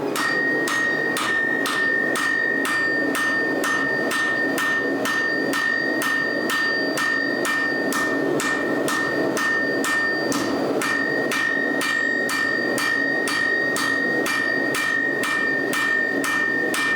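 Blacksmith in a workshop taps steadily with a hammer, rapid metallic ringing strikes in a regular rhythm heard at a slight distance over a constant background hiss, no one speaking.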